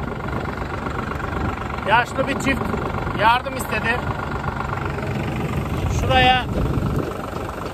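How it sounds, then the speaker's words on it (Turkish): A tractor engine idles with a steady low rumble and faint knocking underneath, while someone talks over it in bursts. "Traktör kullanmayı da öğrendik."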